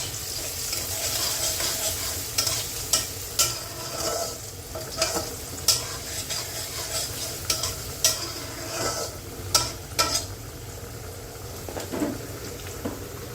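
Onion, garlic and dried red chilies fry in hot oil in a pan for a tamarind tomato-potato sour dish, a steady loud sizzle with repeated clacks of a stirring spoon throughout.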